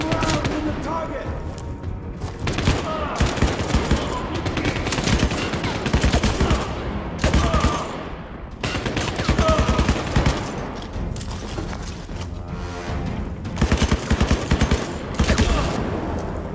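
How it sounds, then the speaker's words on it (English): Gunfire in the video game CrossFire as shots are put into a target during a campaign mission, with dense, rapid bursts of automatic fire continuing almost nonstop, loud and close, under game music and effects. "Put some rounds in the target!"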